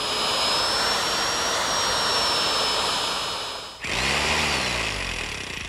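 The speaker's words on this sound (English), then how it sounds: "I'm switching to my handheld electric drill with a 3/8-inch auger bit." A loud, steady whine of a handheld electric drill with a 3/8-inch auger bit drilling a wooden lamp piece, running continuously, briefly dropping off before spinning back up at full speed.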